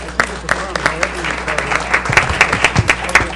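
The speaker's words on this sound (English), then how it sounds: "a round of applause for our last panel" An audience at a telecom policy workshop applauds the final panel, a dense, steady burst of many hands clapping, close and loud throughout, with a voice briefly heard under it.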